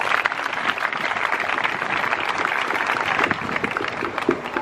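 A crowd claps steadily for a church singing group and musicians, a dense continuous applause of moderate loudness throughout.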